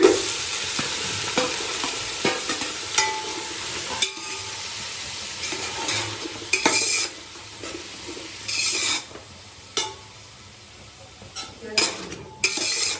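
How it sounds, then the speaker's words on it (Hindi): Onions fry and get stirred in a pot for a Bihari-style mutton curry, a soft continuous sizzle broken by repeated scraping and clanking of a metal spoon against the pan, some strokes loud and sharp. "अब हम इसको ढक ढक के फ्राई करते रहेंगे, प्याज को अच्छे से फ्राई हो जाएगा।"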